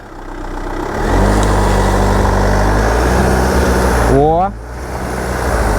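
A Land Rover Freelander 2 diesel labours up a slippery grassy hill at a sharp angle, its engine droning steadily and loud, then rising in a quick revving sweep near the end as the wheels grip; a short exclamation breaks in.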